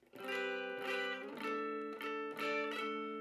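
Clean strummed acoustic guitar chords ringing out, a few sustained strums in a steady rhythm, close and clear with no talking.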